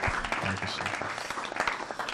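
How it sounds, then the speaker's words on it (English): Audience applause at a spiritual gathering, a dense steady wash of many hands clapping throughout, fairly close and continuous with some voices mixed in. "another round of applause for His Grace Bhuta Bhavana"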